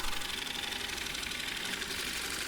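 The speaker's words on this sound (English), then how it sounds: "Here I'm using the Ashley Harwood signature bowl bottom gouge, and that thing just does an amazing job of creating a smooth surface on the bottom of a bowl." An elm bowl spins on a wood lathe while a bowl gouge cuts its bottom, making a steady, close whirring hum with a fine cutting hiss and no speech.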